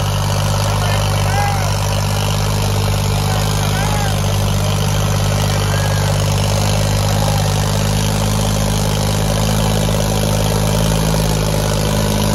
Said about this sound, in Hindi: देखो भाई कितना गर्म हो रहा ट्रैक्टर, पूरी आग बगावे है।